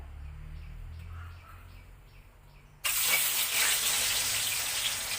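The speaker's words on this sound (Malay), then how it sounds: "Okay, kita goreng tahu kita ni dulu ya." Cut pieces of tofu drop into a hot pan. After a quieter start, a sudden loud, steady sizzle of frying begins partway through and carries on to the end.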